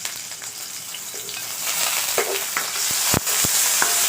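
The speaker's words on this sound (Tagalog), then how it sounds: "Saute lang natin yung luya or ginger." Ginger sizzling in cooking oil for sinigang na bangus, a steady close frying hiss with intermittent stirring scrapes and a few sharp utensil knocks against the pan near the end, no talking.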